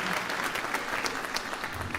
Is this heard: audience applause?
yes